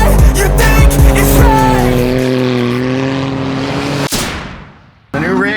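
A Smart car being drifted: the engine revs hard and loud with a sustained whine and tire noise, a sharp exhaust bang near the end, then a brief drop before the roar resumes.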